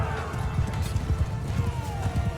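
Hoofbeats of a horse galloping in Mount & Blade II: Bannerlord, a steady rapid clip-clop rhythm running throughout, fairly loud and close, with faint battle ambience behind.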